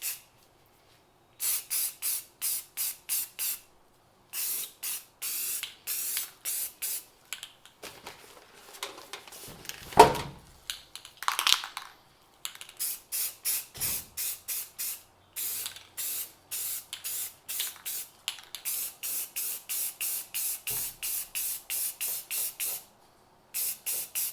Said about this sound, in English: So I'm going to start with some primer, and we'll move on to some top coat from there.